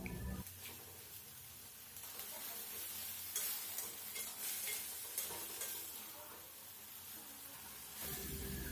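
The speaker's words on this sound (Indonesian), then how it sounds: "Diaduk-aduk lagi biar bosen ngaduknya." Fried tempeh and sliced tomatoes are stirred in a frying pan over a constant loud sizzle, with spatula scrapes and clinks against the pan throughout.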